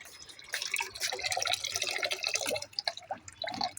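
Water being poured onto garden plants and a blooming rose: continuous close splashing and pattering of liquid onto leaves and soil, irregular and fairly loud throughout.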